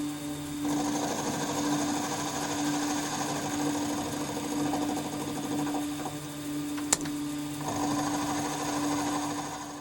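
A machine tool runs on power feed, cutting the cylinder of a Stuart S50 model engine with a steady, close mechanical whir and hum, a brief sharp click partway through.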